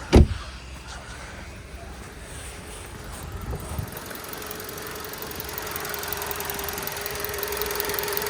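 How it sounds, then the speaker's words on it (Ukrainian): A Volkswagen Touran 1.6 MPI engine idles on LPG with a steady low, even hum after a brief thump at the start, a faint whine running underneath. "Зараз автомобіль працює на газу."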